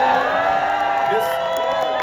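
A tennis crowd at the Laver Cup in Chase Center cheers and whoops in a short, lively burst of many voices, heard at a moderate distance.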